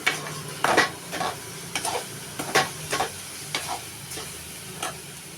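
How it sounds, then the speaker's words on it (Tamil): Grated coconut and sugar being stirred in a pan for coconut candy, a spoon scraping and clinking in repeated strokes over a soft background sizzle, close and fairly loud with no talking. "திரி வச்சுருக்குற தேங்காய் அதோட சேர்த்து நல்லா கைவிடாமல் கிண்டிக்கணும்"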